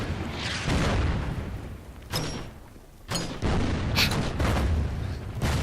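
Mortar and artillery fire in the WW2 strategy game Order of Battle, set at Kharkov: heavy booming blasts with rumbling low ends, one sharp crack near the middle, dense and loud throughout.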